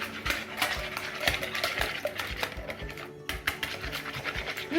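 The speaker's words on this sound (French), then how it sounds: "Nous allons mélanger." Madeleine batter being mixed in a bowl, the whisk or spoon scraping and tapping the sides in quick, uneven strokes at close range, with no talking.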